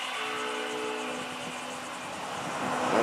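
A Florida East Coast freight train rolls past at speed as a steady broad rumble with faint tonal hum, growing slightly louder toward the end and heard from a moderate distance.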